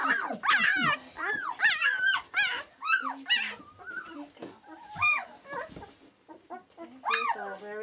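Newborn Kodiak puppies, four days old, whine and squeal in a dense, overlapping chorus of high, wavering cries close by, continuous with brief pauses between bursts.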